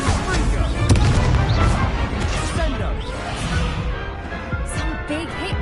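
The Incendio fire spell blasts in Hogwarts Legacy during a tournament duel: a dense, loud burst of roaring flame and impacts, booming strongest near the start and then churning on with crackling hits and game effects.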